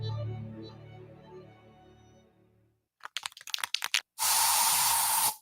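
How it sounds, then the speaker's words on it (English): An aerosol can of bug spray inside a home gives a few quick rattling shakes, then releases one sustained close hiss of spray lasting about a second, after a stretch of faint low background sound. "So you just used bug spray in your home."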